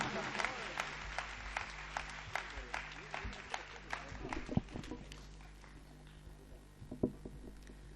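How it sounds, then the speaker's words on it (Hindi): Scattered, fairly faint clapping from a Hindi comedy-poetry show audience greets a poet coming on stage. A voice speaks over the claps, and a low hum runs underneath. "आपकी तालियां उन्हें स्वागत दें, अभिनंदन करें।"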